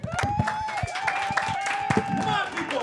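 Scattered audience clapping breaks out at a live student television talk show's Pride segment, with a few distinct claps over a sustained tone and voices talking and cheering on top.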